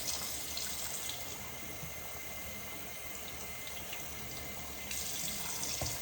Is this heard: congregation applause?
no